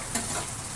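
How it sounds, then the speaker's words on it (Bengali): Onions and tomatoes sizzle gently in hot oil along with whole garam masala spices, a short continuous hiss with a faint stir at the start and no voices. "টমেটো আর পেঁয়াজ ভাজতে দিয়েছি আর গোটা গরম মশলা ফোড়নে দিয়েছি"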